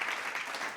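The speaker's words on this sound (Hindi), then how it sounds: "जोरदार करताली" Brief burst of steady, dense applause from an audience at a women achievers awards ceremony in Odisha, heard on its own without voices.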